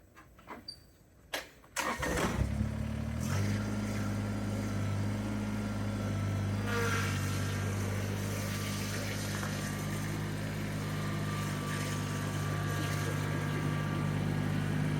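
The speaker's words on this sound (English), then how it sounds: "let's get the tractor put away." A tractor is started with a brief cranking before the engine catches, then settles into a steady, close idle that runs on evenly until the end.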